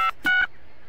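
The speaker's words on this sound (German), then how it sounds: "Gib deine Nummer ein." Short electronic keypad tones from a mobile phone as a number is dialed in the video game Lego City Undercover, two or three quick clean beeps in close succession, loud and alone.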